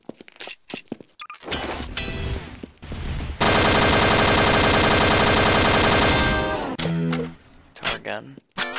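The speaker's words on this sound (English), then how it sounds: "He just has a machine gun on his back." A dinosaur NPC in Garry's Mod fires a machine gun in a long, loud, rapid burst lasting about three seconds, framed by scattered impacts and game noise before and after.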